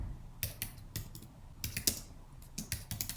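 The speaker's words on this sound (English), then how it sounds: "Now I'm just gonna type in" Fingers type on a computer keyboard in quick, uneven bursts of close, crisp key clicks with short pauses between, nothing else heard.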